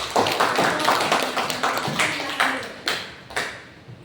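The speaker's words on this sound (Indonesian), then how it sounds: "Oke, berikan aplaus" A small classroom group at an Indonesian vocational school claps in uneven bursts, with sharp, close hand claps spaced irregularly and fading toward the end.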